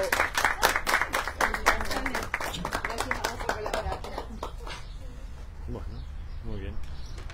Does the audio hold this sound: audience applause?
yes